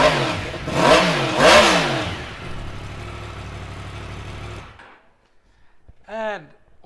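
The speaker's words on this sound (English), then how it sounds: "Really fabulous sounding engine" A 2018 Yamaha MT10 motorcycle engine revving: two sharp throttle blips rising and falling, then a fading idle, then a brief silence and one more short rev, loud and close.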